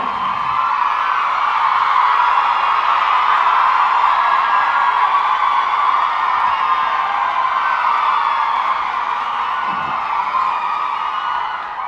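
A large crowd at the Maruthu Brothers memorial day ceremony attended by Governor R.N. Ravi cheers and whoops loudly and continuously for twelve seconds, a dense, sustained roar that eases slightly at the end.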